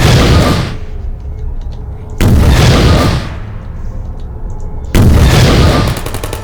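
A weapon fires in the Portal video game: three loud, heavy booming shots spaced a couple of seconds apart, each trailing off in a rumbling decay.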